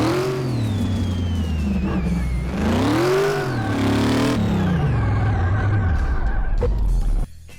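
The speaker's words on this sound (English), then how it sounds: "The engine sounds really good when you start rolling" A supercharged V8 car engine in the video game Car Mechanic Simulator 2018 roars and revs, pitch sweeping up and down through gear changes, loud and continuous before cutting off near the end.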